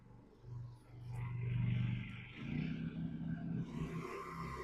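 Two Honda 2200i portable generators run together at full throttle off-grid beside an RV, a loud, steady engine roar with a low hum that swells and shifts midway, continuous throughout.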